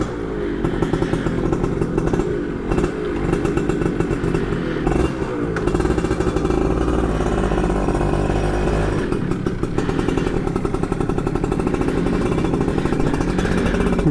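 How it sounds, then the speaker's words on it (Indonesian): Yamaha F1ZR two-stroke motorcycle from 2000 fitted with a Chan Racing muffler, ridden past close up with a loud raspy, crackling exhaust that revs and pulses unevenly throughout. "sekarang kita langsung aja nyoba knalpot ini sambil jalan"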